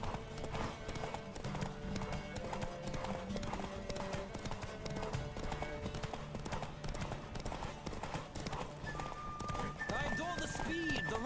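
Horse galloping during a race in The Witcher 3, rapid rhythmic hoofbeats thudding continuously under game music, with brief whinnies and speech over the top.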